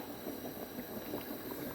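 Water bubbles steadily in a pot around jars of cherry compote being sterilized on a gas stove, a continuous dense simmering hiss with no talk.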